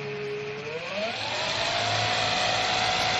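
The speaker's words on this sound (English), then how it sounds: "The motor is a three-phase brushless AC-DC motor." A three-phase brushless AC-DC motor spins up with a rising whine that climbs in pitch, then settles into a steady loud hum and whir.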